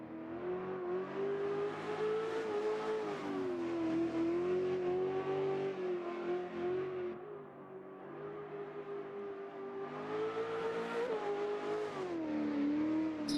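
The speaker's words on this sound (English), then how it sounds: "I want to hear the V8" A V8-powered rally car in Richard Burns Rally, the engine holding a loud steady howl that swells and dips as revs change, briefly easing off midway before pulling again, with no talk.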